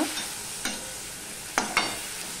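Pumpkin curry with turmeric being stirred in a pan, a faint sizzle underneath a few sharp scraping strokes of the spoon, two of them close together near the end.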